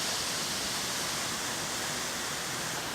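Water test spraying a simulated rainstorm onto the soft top of a Buick Cascada on the production line, a constant broad rushing hiss like heavy rain, close and unbroken.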